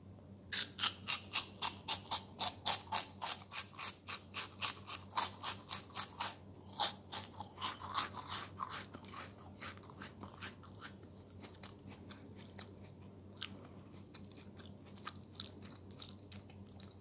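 Close crunching of an OT Tango cheese wafer bitten and chewed, a rapid run of crisp, evenly spaced crackles that thins into softer, scattered chewing with no talk over it.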